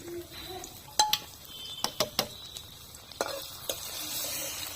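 Chopped garlic fries in hot oil in a wok for egg tadka, a quiet continuous sizzle broken by several sharp metallic clinks and scrapes of a utensil against the pan.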